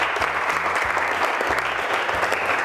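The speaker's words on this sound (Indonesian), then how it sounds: "Tepuk tangan untuk Bang." A classroom of students at a vocational high school in Bandung applauding a classmate, a brisk even patter of many hands clapping, close and sustained for the whole stretch.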